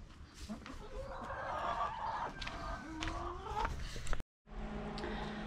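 Hens cluck and murmur close by in a busy, continuous chatter, with brief louder calls and a short drop to silence near the end.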